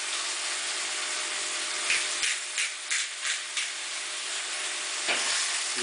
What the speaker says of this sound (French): Et vous remuez, vous mélangez bien.